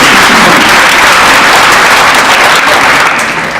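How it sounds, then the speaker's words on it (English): Loud, dense audience applause fills a hall after a panelist is introduced at an IEEE Rising Stars panel, a steady wash of many hands clapping alone for a few seconds. "Let's give him a round of applause."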